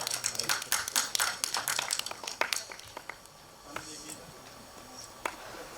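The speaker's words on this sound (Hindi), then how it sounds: "जोरदार तालियां" Audience at a film trailer launch event applauds guests coming on stage, a burst of sharp claps that thins to sparse isolated claps, with a host speaking over it.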